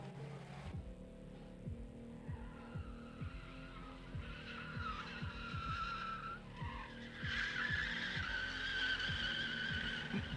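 A Mazda Miata drifts into the pit at a drift event, its tires skidding and squealing loudly under a steady engine drone, the screech building and rising near the end.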